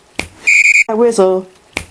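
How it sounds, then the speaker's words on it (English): A short series of sharp snaps sits between two bursts of whistling, the first a steady high tone and the second lower and wavering. "But when he hears that whistle"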